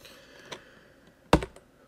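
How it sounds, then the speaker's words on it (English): Keystrokes on a computer keyboard while code is entered in an IDE: a faint tap, then a short quick burst of two or three louder clicks near the end, close and otherwise quiet with no talk. "I will start typing in this program"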